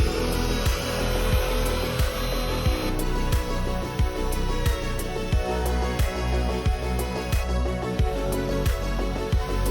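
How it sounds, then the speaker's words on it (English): Wood router fitted with a 6mm radius bit rounds the corners of boat seat boxes for a Cruise Craft 585 XL, a steady loud whining motor with repeated sharp bursts as the bit cuts. "I'm just using a 6mm router bit."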